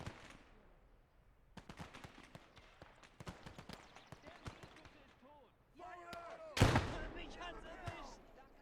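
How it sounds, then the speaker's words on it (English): Grenade tossed in a WWII real-time strategy game: a sharp burst of explosion noise near the end stands out over a busy battlefield of scattered gunfire thuds and pops, with some speech-like game voices mixed in. "Let's try to throw a grenade."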